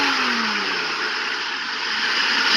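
Car engine running after its ignition timing was reset to about 14 degrees advanced, a loud steady mid-pitched roar with a brief falling whine at the start, heard close and without talk.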